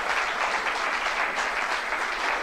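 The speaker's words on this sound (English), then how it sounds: "Well, the fans applaud" Fans at a darts match applaud in a steady, dense wash of clapping that holds at even loudness throughout, with no voices over it.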